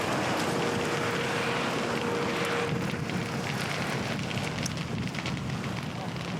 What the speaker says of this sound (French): on est en plein sous le front de flamme maintenant